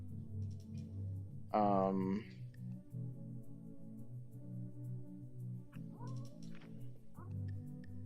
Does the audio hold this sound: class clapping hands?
no